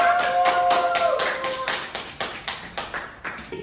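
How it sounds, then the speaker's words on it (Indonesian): Small group of people clapping for a dance group, the claps settling into a slow, rhythmic beat of distinct separate strikes that thin out, with a brief sustained tone fading early on. "Terima kasih untuk kelompok 1, tepuk tangan dulu"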